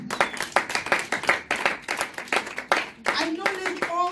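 A church congregation claps for a visiting man of God in steady rhythmic bursts, loud and close, with someone talking over the clapping.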